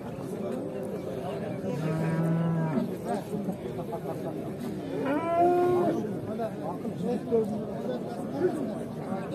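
Bulls and cattle at a livestock market give two long, loud moos close by, with a brief lowing between, set against constant crowd chatter and people talking.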